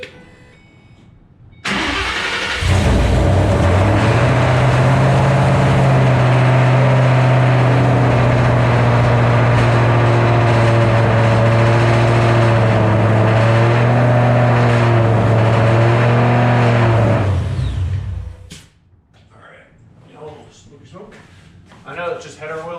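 A 2007 Ford Mustang GT500 V8 with freshly installed NSR cams cranks and fires for its first start, then settles into a loud, rough, lopey idle for about fifteen seconds before shutting off, followed by quieter talk.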